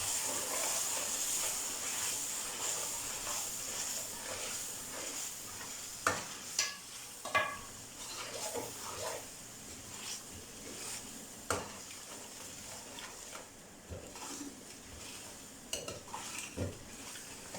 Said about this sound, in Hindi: ये एक बड़ा चमचा जो है ना इसमें दही डाल रहे हैं और इसको अच्छी तरह भून लेंगे।